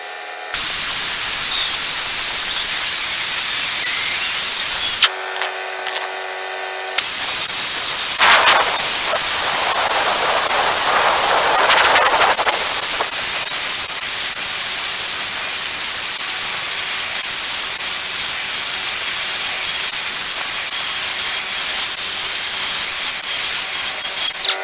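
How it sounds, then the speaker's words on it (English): A carbide tool grinds back and forth on a semi trailer brake bushing, giving a loud, continuous high-pitched whine with harsh hiss that drops out briefly for a couple of seconds before resuming steadily. "I'll just work it back and forth with my carbide tool."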